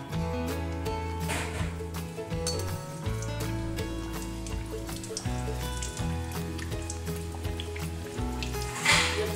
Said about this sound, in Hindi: जब ज्यादा तेल गरम हो जाए तभी उसे पूरी डालें।